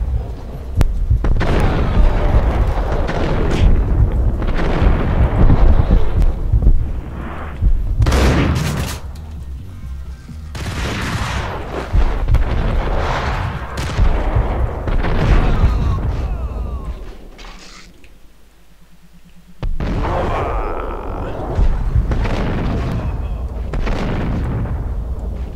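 Heavy gunfire and booming blasts from weapons in the Max Payne video game, loud and dense in repeated bursts across the stretch, with short lulls between volleys.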